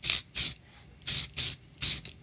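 Aerosol chain wax hisses in five short, sharp sprays onto the chain and gears of a vintage 1965 Ariens snowblower, close by, with quiet pauses between bursts.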